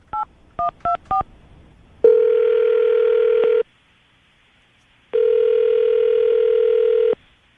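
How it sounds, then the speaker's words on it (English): Four short touch-tone dialing beeps on a telephone, followed by two long steady ringback tones separated by a pause of silence, clear and close with no talking. "I'll dial the phone number right now, see if we can get him on the phone"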